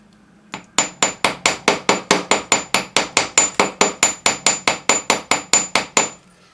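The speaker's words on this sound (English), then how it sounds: "just gently hammer it, and now you can see that it holds itself open" Metal fibula brooch being gently hammered to set its spring tension: about twenty even, sharp metallic taps in a steady rapid rhythm, close and loud with a faint ringing tone over each strike.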